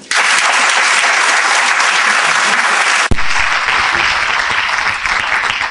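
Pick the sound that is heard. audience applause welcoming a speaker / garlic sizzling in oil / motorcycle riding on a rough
audience applause welcoming a speaker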